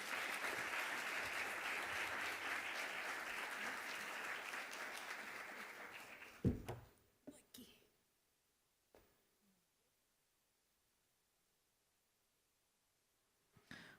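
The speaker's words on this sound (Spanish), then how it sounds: "Un aplauso, por favor." Sustained audience applause greets a speaker at a talk, filling the first six seconds before cutting off abruptly, followed by a few handling knocks and near silence.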